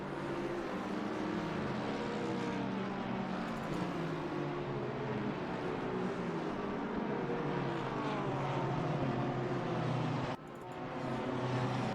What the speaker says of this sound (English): We've still got a nice train of cars going through here at the back of the field.